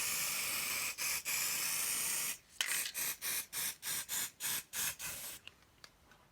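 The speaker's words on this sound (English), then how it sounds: "I'm just going to use some layering spray just to" Layering spray hisses from an aerosol can onto model railway scenery: two long sprays, then a rapid series of about nine short, evenly spaced bursts, close and distinct.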